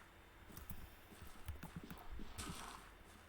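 Horses at a horse ranch in a video game clip-clop about with quick, uneven hoof steps, faint and fairly close, no talking over them.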